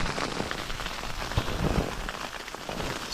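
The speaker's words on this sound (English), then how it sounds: "So it's absolutely chucking it down with hail." Hail pelts hard against a backpacking tent on a wet, cold night along Wainwright's Coast to Coast route. A dense, steady patter drums close overhead, with a few heavier thuds and swells in the clatter.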